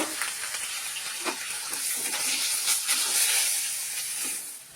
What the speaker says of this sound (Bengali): দেখো আমার মাছ ভাজা প্রায় হয়ে এসছে